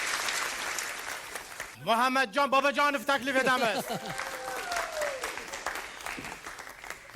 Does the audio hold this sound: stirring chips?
no